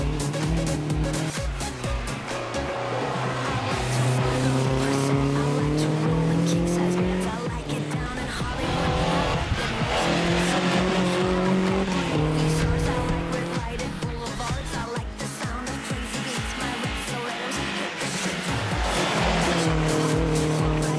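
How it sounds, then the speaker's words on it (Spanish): A race car on a track runs loud and close, its engine rising and falling through repeated gear changes while the tires squeal almost continuously. "subimos otra vez en un coche de carrera"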